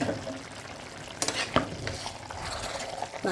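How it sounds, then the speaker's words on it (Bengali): Chicken teheri rice is stirred in a pot over the heat, a soft low sizzle broken by a few scraping, clinking strokes of the spoon, close and fairly quiet with no talk. "এই যে দেখেন তেহেরিটা এই পর্যায়ে আমি নেড়ে দিব"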